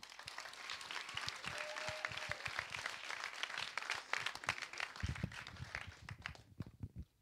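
A youth camp audience applauds a young woman named Mardo, a dense, steady patter of many hands clapping with a few louder close claps, fairly faint and continuous throughout.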